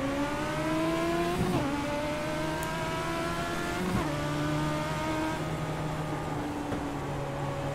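Legends race cars in the iRacing sim at South Boston accelerate together off a green-flag restart, a pack of engines rising and stepping up through gears in overlapping revving tones, loud and steady throughout.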